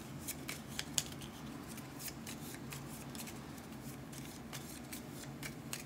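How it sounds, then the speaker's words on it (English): A deck of cards for the board game The White Castle shuffled by hand, a quiet run of soft flicking riffles and taps close by, with no talking. "And then we'll shuffle their AI deck again."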